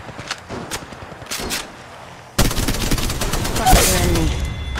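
In the mobile game Apex Legends Mobile, scattered gunshots crack at first, then a sustained burst of rapid automatic fire erupts loud and close.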